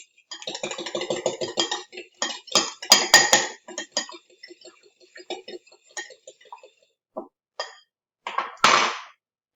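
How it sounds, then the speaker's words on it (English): An egg cracked into a bowl and beaten lightly with a fork: a sharp crack, then a run of quick close metallic clinks and taps against the bowl, slowing near the end. "crack one egg and just lightly beat with a fork"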